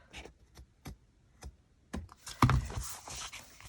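Good-quality scissors trim excess material from a no-sew journal cover, giving a series of crisp, separate snips close by that build into a denser rustle of cutting and handling.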